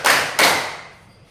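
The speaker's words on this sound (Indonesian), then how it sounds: "tepuk 3 2 kali" An audience claps a rhythmic pattern twice, two sharp close group claps in quick succession, each fading into room reverberation.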